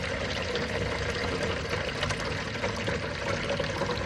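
Water poured steadily to fill a small homemade pond, a constant loud rushing splash with no pauses and no talking.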